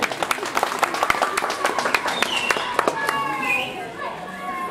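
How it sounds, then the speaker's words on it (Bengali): A crowd at a club prize-giving claps, with dense quick hand claps at the start that thin into scattered claps as children's voices and chatter continue. "হাততালি।"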